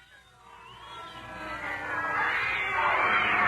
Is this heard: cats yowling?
yes